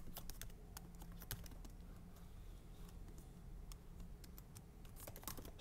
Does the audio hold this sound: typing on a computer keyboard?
yes